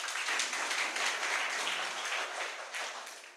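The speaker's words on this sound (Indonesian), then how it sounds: "tepuk tangan." Audience applause during a public lecture on shrimp farming technology: a soft, fairly distant wash of many hands clapping together, steady and even throughout with no voices on top, tapering gently at the close.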